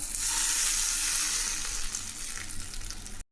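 Tempering for a mixed chutney crackles and sizzles steadily in hot oil, a dense, close frying hiss that holds for about three seconds with no voices.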